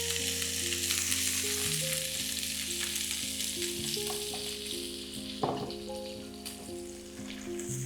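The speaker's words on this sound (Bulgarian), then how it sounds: "Малко олио и ще сложа пиперките." Peppers frying in oil in a pan for a Bulgarian sach dish with chicken and pork, a steady close sizzle running throughout with a brief clatter near the middle and no talking.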